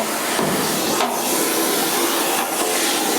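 A vacuum cleaner roars loudly and steadily up close, cleaning dust from an old truck cab, its broad whooshing hiss shifting slightly as the nozzle moves.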